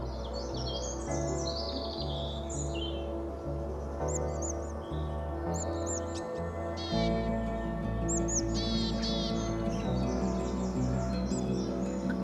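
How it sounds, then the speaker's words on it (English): Recorded willow tit calls played through a handheld speaker in riverside woodland, short high buzzy call phrases repeating at intervals over a low steady background hum, with no talking. "using handheld speakers to play willow tit calls in all areas of suitable habitat"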